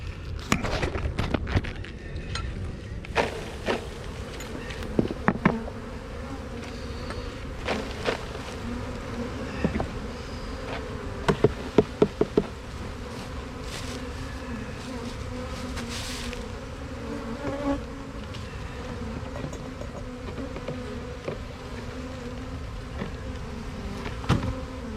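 A dense, continuous hum of many honeybees buzzing close by around an open hive during a mite check, with occasional sharp clicks and knocks over the steady drone.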